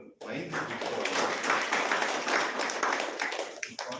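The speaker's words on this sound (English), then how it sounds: "Let's applaud to Pawan for buying this book for us." A seminar audience at Lorhan IT applauds Pawan with sustained clapping from many hands in an indoor hall, steady and moderately loud for several seconds before tapering off.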